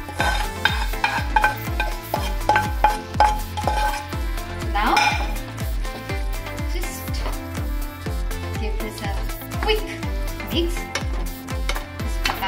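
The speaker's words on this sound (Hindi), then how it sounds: "इसके ऊपर मैं स्टर फ्राइड प्याज और जो अदरक और हरी मिर्चे हैं मैं इसके ऊपर डाल देती हूँ" Stir-fried onion, ginger and green chilies being worked into a fish korma in a pan, with a steady rhythmic scraping and clanking of a spatula over soft sizzling, close and fairly loud throughout.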